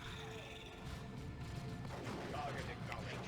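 Shotgun blasts from Space Marine scouts in the real-time strategy game Dawn of War 2 Retribution, a dense rattle of gunfire and impacts thickening toward the end, mixed under battle noise and a talking voice.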